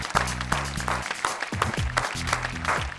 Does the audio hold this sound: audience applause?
yes